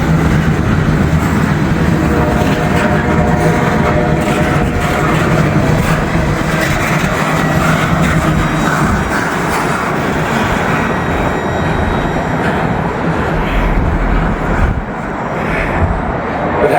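A heavy freight train with no distributed power units passing Cincinnati Union Terminal, a loud, sustained rumble and rolling roar of wagons going by nearby for the whole stretch, easing slightly near the end.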